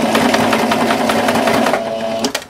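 A sewing machine stitches the hem of a fabric placemat, running in a fast, steady whir of needle strokes for about two seconds before briefly slowing and stopping.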